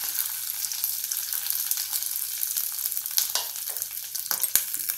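Potato pieces fry in a pan with cumin powder and spices, giving a steady bright sizzle with crackles and scraping stirs, close and alone without talk.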